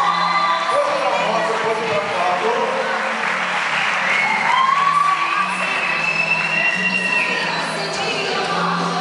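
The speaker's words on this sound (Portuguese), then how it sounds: "Uma salva de palmas para ela." Audience at a church youth retreat's ridiculous-costume parade applauds a participant with cheering, whoops and children shouting, a dense steady crowd noise throughout with voices mixed in.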